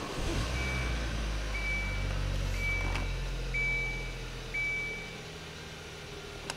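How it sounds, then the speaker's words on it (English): A Kia Sorento engine runs with a steady low rumble throughout, while a high, evenly spaced chime beeps about once a second over it. "Vehicle starts right up."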